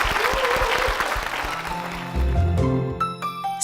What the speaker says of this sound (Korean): 집사님께 다시 한번 큰 박수 부탁드리겠습니다